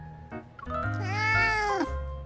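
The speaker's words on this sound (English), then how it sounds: "Seeing Raphael having fun with the kitties" A cartoonish cat meows in a video game during a cat-themed event, a single drawn-out, rising-and-falling meow over a steady game music bed, fairly close and clear with no talk.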